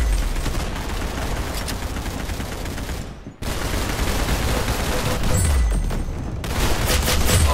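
Dense, continuous gunfire in the online shooter Arsenal, sustained bursts of rapid shots with a brief break near the middle, loud and close throughout.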